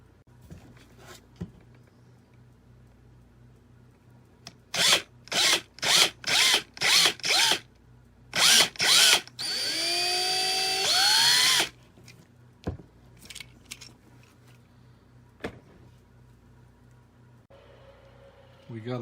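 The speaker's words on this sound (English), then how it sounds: "We got it drilled apart and stripped" Power drill working apart a Hot Wheels Aston Martin DB5 toy car: six or seven short loud bursts, then one sustained whining run of about three seconds, followed by a few faint clicks and handling sounds.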